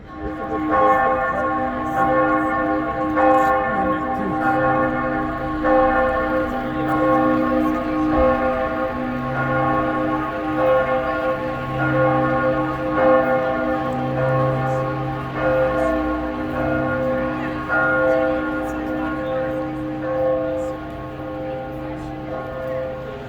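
A church bell rings repeatedly in Florence, Italy, with regular, resonant strikes and long ringing tones carrying steadily for over twenty seconds amid faint street ambience.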